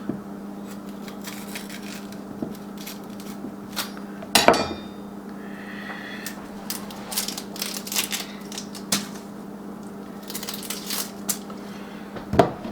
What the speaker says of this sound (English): I just chopped this into some chunks so it works in the processor.